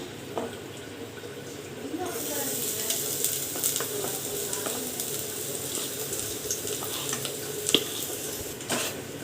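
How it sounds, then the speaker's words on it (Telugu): Soaked semolina and coconut fry in ghee over a low flame, sending up a steady close sizzle with scraping stirring strokes and a few sharper knocks of the spoon against the pan. "దీన్ని బాగా గోల్డ్ కలర్లో ఫ్రై అయ్యేంత వరకు ఫ్రై చేసుకోవాలి ఓన్లీ లో ఫ్లేమ్లో పెట్టుకొని ఫ్రై చేసుకోండి"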